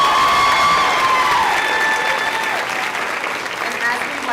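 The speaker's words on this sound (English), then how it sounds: "Let's have one more round of applause for our wonderful student speaker, Ashley." Audience applause at a nursing BSN pinning ceremony, steady and loud clapping from a large crowd with some cheering, a faint high whistle-like tone early on, gradually easing over a few seconds.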